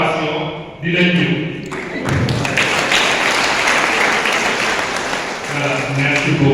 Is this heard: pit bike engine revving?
no